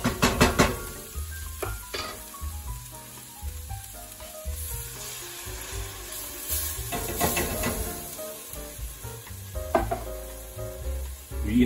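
Onions and garlic sizzle loudly and continuously in a frying pan, with occasional clatters of a utensil stirring against the pan.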